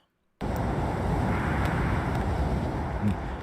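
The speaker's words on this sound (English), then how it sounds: "Damn, it's windy up here." Steady roaring wind gusting high up on a moving vehicle in the game Fate/Grand Order, starting abruptly after a brief silence and holding loud and continuous with no talk.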